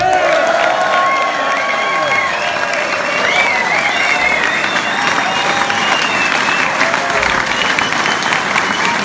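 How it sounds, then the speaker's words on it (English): A large audience applauds and cheers for Joe Satriani at the Sena Performers European Guitar Award 2018, a loud, sustained roar of clapping with whoops and voices mixed in throughout. "we have a warm applause for Mr. Joe Satriani"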